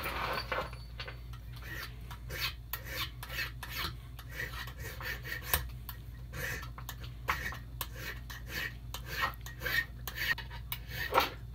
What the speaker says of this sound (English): I figure I'll just use a warding file.